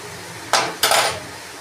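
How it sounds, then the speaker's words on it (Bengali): Scrambled egg tipped into a pan of frying radish and stirred: two quick metallic scrapes and clinks of a utensil against the pan, close and brief, over a low background hum. "ডিমের যে ঝুড়িটা করে রেখেছিলাম সেটা আমি দিয়ে দিলাম, দিয়ে ভালো করে নেড়ে দেব"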